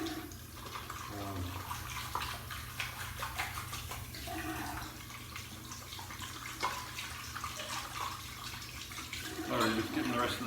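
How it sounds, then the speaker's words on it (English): Tap water runs steadily into a bowl as soap is rinsed out, splashing and gurgling up close, with a voice talking over the flow. "just getting the rest of the soap out of the bowl here"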